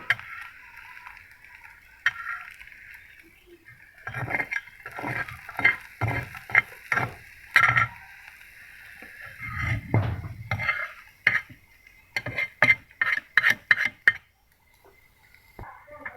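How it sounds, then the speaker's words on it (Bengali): A pan on a gas stove set very low while egg is fried for an egg roll, with repeated clinks and scrapes of a utensil against the pan and light sizzling in between, close up and with no talking. "জালটা আমি ধরিয়ে দিয়েছি এখন এতে আমি ডিমটা ভেজে নেবো"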